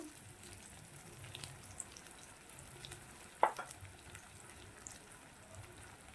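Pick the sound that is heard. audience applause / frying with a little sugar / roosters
frying with a little sugar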